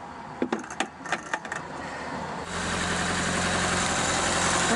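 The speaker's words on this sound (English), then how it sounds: "car is running again" A Mk3 Ford Cortina Estate engine starts up after a jangle of keys and settles into a steady, close idle that holds to the end.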